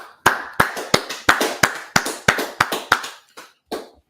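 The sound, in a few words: audience clapping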